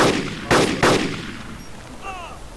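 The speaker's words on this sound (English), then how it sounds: "Now they're shooting something." Three sharp gunshots ring out in a quick burst in an Arma 2 DayZ mod game, each with a short echoing tail, followed by faint chirps and quieter background ambience.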